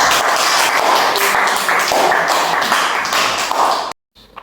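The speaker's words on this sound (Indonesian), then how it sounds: "Tepuk tangannya, apresiasi." An audience in a classroom presentation session applauds. Dense, steady clapping from many hands carries on loudly for about four seconds, then cuts off sharply.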